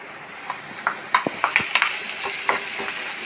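Frying sizzle of grated coconut in coconut oil in a pan, with scattered crackles and pops, plus a few clinks of stirring against the pan, steady and close, no talking.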